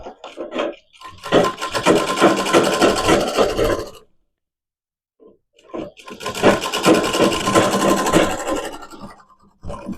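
A sewing machine stitching a blouse runs in two loud, close bursts of rapid mechanical whirring, each lasting a few seconds, with a short silent pause between them.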